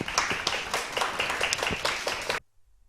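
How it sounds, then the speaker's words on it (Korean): An audience at a certified labor attorney exam information session claps steadily to welcome a speaker, a dense patter of many hands that stops abruptly after about two and a half seconds. "노무사님을 큰 박수로 모시겠습니다"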